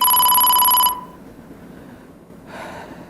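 A telephone-style ringing sound effect from a Turkish word game show, a bright electronic tone held for about a second, followed by quiet and a short faint burst of noise.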